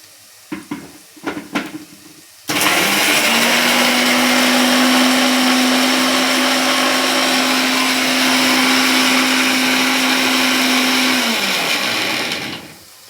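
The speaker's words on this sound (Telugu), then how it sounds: "దీన్ని ఇప్పుడు మిక్సీ పట్టుకుందాం" An electric mixer grinder blends fried ingredients into a paste for a curry, a loud steady whirring motor running for about ten seconds after a few brief clatters, then winding down.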